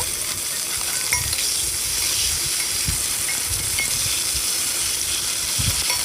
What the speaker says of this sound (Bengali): পটলগুলো একটু লাল লাল করেই ভেজে নেব। লবণ হলুদ দিয়ে ভালো করে ভেজে নেব।